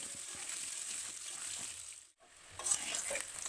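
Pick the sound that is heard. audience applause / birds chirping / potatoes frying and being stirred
potatoes frying and being stirred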